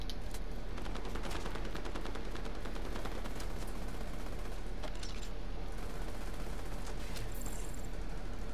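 Rapid gunfire in the Division 2 video game on Liberty Island, a dense run of overlapping shots at moderate level lasting several seconds with no talk.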